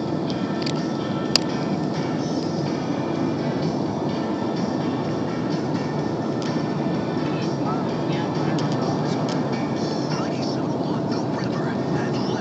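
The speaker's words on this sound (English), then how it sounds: "Train, yeah, it's a subway." A subway train rumbles steadily throughout, a continuous loud roar of wheels and motor with a brief sharp click near the start.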